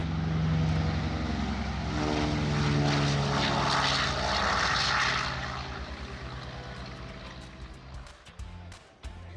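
Propeller airplanes at a World War II weekend airshow run by the Mid-Atlantic Air Museum, a loud, steady engine drone that holds for several seconds before easing slightly lower, with a few sharp knocks near the end.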